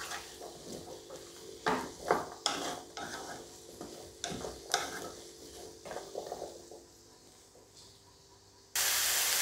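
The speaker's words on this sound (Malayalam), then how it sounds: "ഇത് നമുക്കിതിൻ്റെ കൂടെ ഇട്ടൊന്ന് വഴറ്റി കൊടുക്കാം." Vegetables, including peas, are sautéed for a Kerala vegetable stew, with repeated stirring scrapes and clinks of a spoon against the pan over a soft sizzle, ending in a burst of steady hiss.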